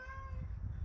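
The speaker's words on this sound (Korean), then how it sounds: "지금 이 소리는 저희 고양이예요" A domestic cat meows once, close and clear over a low background rumble, a short tonal call lasting under a second.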